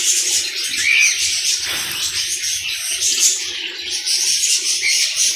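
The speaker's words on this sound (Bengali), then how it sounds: "আর এদিকে পেয়ে যাবেন রানিং ককাটিল পাখিগুলো" Cockatiels chirping in a bird shop, a dense continuous chatter of high tweets and calls filling the room at moderate loudness, with no talk.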